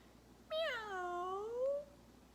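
A black cat gives a single drawn-out meow lasting over a second, clear and fairly close, with a gently falling then rising pitch and no other sounds around it.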